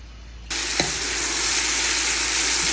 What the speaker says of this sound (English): I'm gonna saute the onions until brown